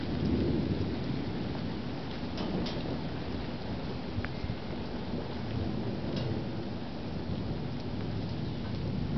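An early morning thunderstorm, with a hail storm approaching from the southwest, keeps up a steady rush of heavy rain and a continuous low rumble of thunder. Scattered sharp ticks of drops hitting surfaces sound through it, and no one speaks.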